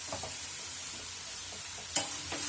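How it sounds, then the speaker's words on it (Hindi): Chopped onions and jhimni fry in a pan, a soft steady sizzle broken by a few light scraping stirs and one sharp utensil clink near the end. "प्याज जो थोड़ा थोड़ा फ्राई हो चुका है तो इसी स्टेज पे हमें इसमें झिमनी कटा हुआ मिलाना है।"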